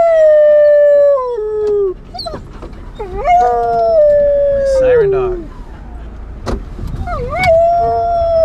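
A dog howls in long, wavering, siren-like wails that slide downward, loud and close, broken by short yips and whimpers, with a car's engine rumble underneath.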